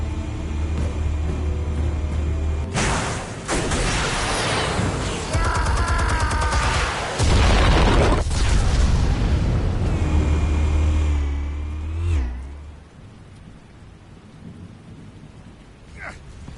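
A large explosion in Batman: The Telltale Series, a loud rumbling blast with crashing debris and a long roar that fades into quieter rumble, with low voices faintly underneath.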